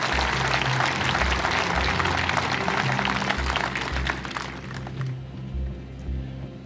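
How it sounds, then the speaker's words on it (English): Audience applause at a science talk, a dense wash of many hands clapping that fades and thins toward the end while low background hum continues underneath. "So I think that really deserves a round of applause."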